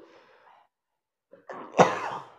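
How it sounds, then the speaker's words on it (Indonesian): A single sharp cough, preceded by a softer breathy sound and a brief pause, close and fairly loud. "Oke, batuk."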